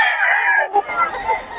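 A Golden Boy Hatch Gray hen at a market crows loudly and close in one brief strained call, then a short clucking tail follows.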